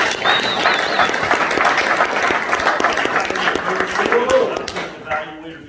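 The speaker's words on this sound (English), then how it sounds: "let's give a round of applause to these four fantastic" A Toastmasters meeting audience in Winter Park applauds evaluators, a sustained round of indoor clapping from a modest crowd that fades out near the end, with a voice speaking briefly.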